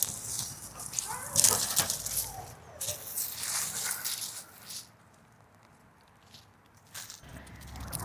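Dogs barking in a garden during autumn cleanup: a few scattered, moderately distant barks and yelps over wind and rustling outdoor noise, with quieter gaps between them.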